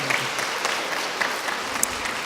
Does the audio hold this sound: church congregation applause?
yes